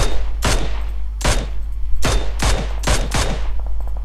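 Five loud, sharp gunshot blasts in irregular succession, each with a booming low tail, gunfire in PUBG over a constant low hum.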